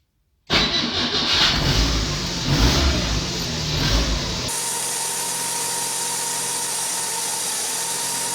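A Fiat 147 engine cranks and catches after a moment of silence, roaring loudly and unevenly for a few seconds before settling into a steady, even idle close by, with no talking.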